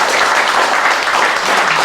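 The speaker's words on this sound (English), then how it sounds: "Cool, round of applause." Dense, loud applause from a live audience at an evening podcast recording, continuous clapping filling the whole short stretch with no talk.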